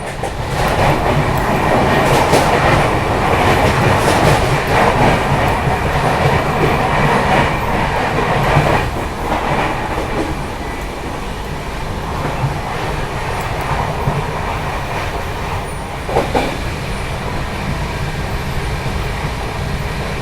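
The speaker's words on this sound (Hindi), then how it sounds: "ट्रैक साउंड भी बहुत ज़बरदस्त आ रहा है।" Inside a first AC coach of the Secunderabad Rajdhani Express at about 130 km/h, a loud continuous rumble fills the car, with rhythmic clickety-clack from the rails that eases slightly partway through.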